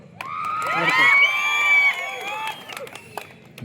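Festival crowd at a Haveri hori habba bull-running victory celebration erupts in loud, sustained cheering, shrill whoops and whistles with scattered clapping, swelling for a couple of seconds and then tapering into ragged shouts.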